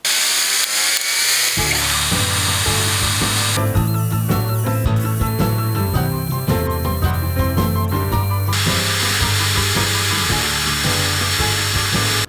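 A GRAND 16-volt cordless brushless drill driver with a 1 mm bit in its chuck runs steadily, a loud, close whirring motor whine that shifts in pitch a few times as the speed changes, with no voices.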